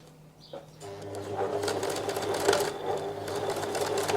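A sewing machine stitching a seam on piping, starting after a brief quiet moment and then running in a steady rapid mechanical whir close by.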